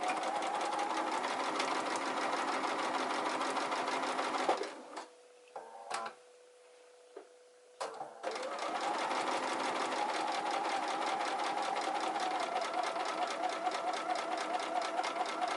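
A sewing machine runs steadily while stitching a garment's curved bust seam, with a brief pause of a few isolated clicks in the middle before the loud continuous whirring resumes, no talking.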